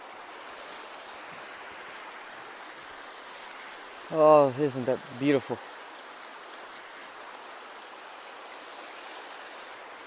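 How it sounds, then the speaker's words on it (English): River flowing at a crossing on the Appalachian Trail near Baxter: a steady, fairly faint rushing of water runs throughout, and someone speaks briefly partway through. "I'm just crossing over a river."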